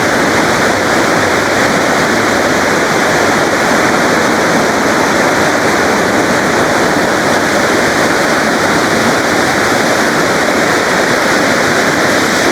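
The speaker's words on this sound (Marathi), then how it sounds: "आता ही तामिनीमध्ये आल्यानंतर आपल्याला तिसरा धबधबा आहे." A waterfall at Tamhini Ghat roars in a loud, steady, unbroken wash of rushing water that holds even from start to finish, with no voices.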